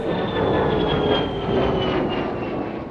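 A steady, loud roar of an F-35 fighter jet overhead, broadband and rumbling with a faint high whine, continuous throughout with no voices.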